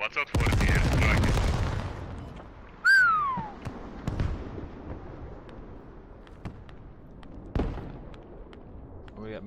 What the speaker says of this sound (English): watch out for the airstrike